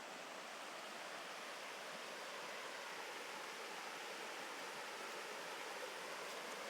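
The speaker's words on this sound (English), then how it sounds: "So we're going to stop here so you can hear the water." A steady, even rush of flowing stream water in the woods fills the scene, constant and fairly soft with no other sounds.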